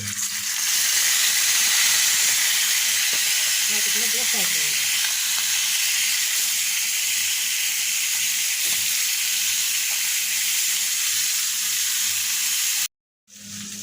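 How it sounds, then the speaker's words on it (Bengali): Rohu fish head, tail and pieces fry in hot oil in a pan, giving a loud, continuous hiss of sizzling close up that holds steady throughout, briefly cutting out near the end before resuming. "রুই মাছের মাথা লেজ এবং কয়েকটি পিস আছে এগুলো আমি ফ্রাই করে নেব"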